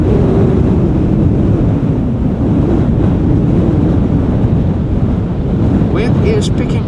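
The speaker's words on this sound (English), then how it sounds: "Wind is picking up, that's for sure." Strong wind at Schiphol Airport buffets the microphone in a loud, continuous low roar that lasts the whole stretch, and a faint voice comes in near the end.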